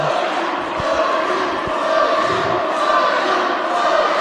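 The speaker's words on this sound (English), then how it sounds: "You can hear both Low Key and Tyler back and forth from this crowd." A wrestling crowd at an IWA Mid-South indie show in 2006 fills the hall with a continuous roar of voices, rising and falling as fans trade chants for Low Key and Tyler, with a couple of dull thuds early on.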